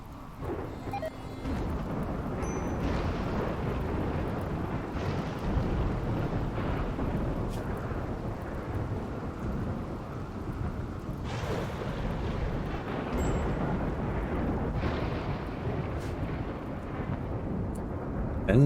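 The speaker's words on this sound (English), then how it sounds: "That rainy thunderstorm should take out the rest here" Thunder rumbling through a rainy thunderstorm in RimWorld, a dense, continuous roar of rain with repeated deep booming swells, loud and sustained throughout.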